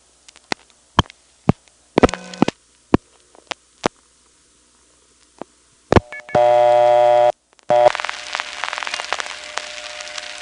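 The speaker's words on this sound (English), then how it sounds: "here you can hear other people getting dial tones and dialing" Crosstalk on a line through a #1 Crossbar central office in the Bronx: other callers' dial-pulse clicks snap out in uneven bursts, then a steady dial tone sounds and a hissy burst of line noise follows.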